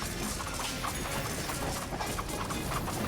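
Galloping horse archer hooves from the real-time strategy game Circle Empires Rivals, a steady dense clatter of many hoofbeats close and continuous, with no voices over it.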